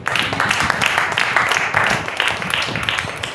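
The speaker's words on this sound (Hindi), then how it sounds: "क्या आप ताली दे सकते हैं?" A church congregation claps together, a steady dense wash of applause filling the hall at moderate loudness, with no clear talk over it.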